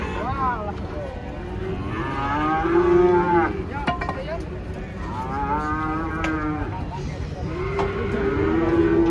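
Giant cattle being unloaded from a truck for Qurban sacrifice moo repeatedly, long drawn-out lowing calls close by, with people talking and handling noises in between.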